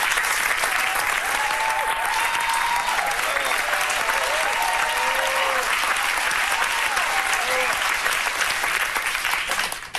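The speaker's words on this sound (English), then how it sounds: "you all deserve a huge round of applause" Continuous, close and loud clapping from an audience rewards speakers after an evening of speeches, a dense even wash of hands that barely fades until the very end.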